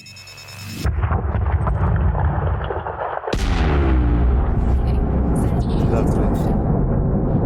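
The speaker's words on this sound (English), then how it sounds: "Lovely big explosion." An asteroid mining charge detonates in Elite Dangerous: after a quieter hum, a sudden loud, deep blast erupts and rolls on into a sustained roaring rumble of debris.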